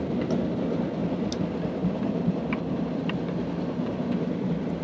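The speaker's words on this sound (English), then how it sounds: "We were sitting on the side waiting for a passenger train to go by." A passenger train rolls past a waiting freight train, a steady close rumble with faint rhythmic wheel clicks and occasional light squeals, no talking.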